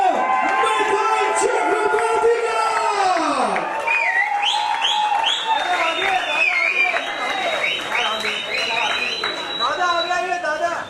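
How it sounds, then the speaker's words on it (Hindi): An audience at a Dance India Dance Season 5 launch press conference claps, cheers and whoops continuously beside music, with talk and chatter mixed in throughout. "आपकी तो तालियां बंद ही नहीं हो रही"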